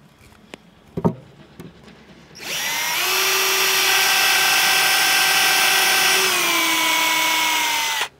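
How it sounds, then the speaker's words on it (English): A few faint knocks, then a power drill whirs up loudly, pre-drilling holes in wood for a wood duck box, running steadily for about six seconds before winding down and stopping. "you're always pre-drilling your holes so that hopefully the wood will not split"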